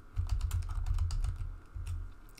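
Rapid typing on a computer keyboard, close and fairly quiet, with a steady patter of keystrokes and a brief pause before a final short burst.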